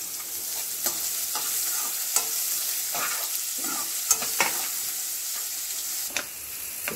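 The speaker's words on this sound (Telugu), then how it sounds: "ఇవి కొంచెం ఫ్రై చేసుకొని ఆనియన్స్ కూడా వేసేసుకుందాం." Onions frying in a pan alongside dried red chillies, a constant close sizzle broken by intermittent scraping taps of a spatula stirring, no voices present.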